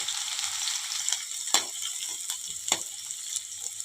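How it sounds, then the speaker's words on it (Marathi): Cumin seeds and crushed garlic sizzle in hot oil for a tempering, giving a steady close frying hiss with a few sharp crackles and spits along the way. "जिरे आणि लसणाची छान खमंग फोडणी करून घ्यायची आहे"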